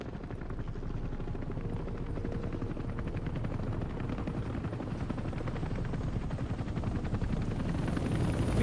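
Chinook-like twin-rotor helicopters in a military action game, giving a loud, continuous rotor thump and engine roar that holds steady and swells slightly toward the end, with no voices over it.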